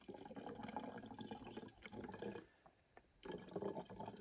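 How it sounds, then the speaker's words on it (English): A clogged backpacking water filter slowly passing algae-filled lake water, a close, quiet running-water gurgle with a short pause before the flow resumes. "This lake water is very full of algae and slime. I'm afraid I may have already clogged up my filter, so it's going slow."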